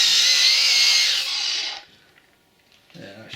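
Flap disc grinder sanding paint off a steel loader bucket part to bare metal for a welding earth clamp, a loud steady high whine for almost two seconds that then winds down, followed by faint handling noises.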